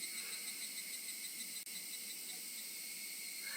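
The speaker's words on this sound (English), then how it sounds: "Only the cry of the cicadas remained annoyingly loud" A dense, continuous high-pitched drone of cicadas in the game Higurashi When They Cry fills the air, steady and fairly loud, broken only by one tiny click midway.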